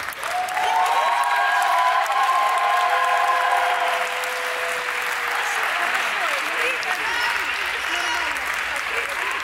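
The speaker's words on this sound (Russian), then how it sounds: "Предлагаю сейчас организовать аплодисменты," A large audience at a ballroom dance festival final claps loudly and continuously, with a few cheering voices rising over the applause early on before it settles into steady clapping.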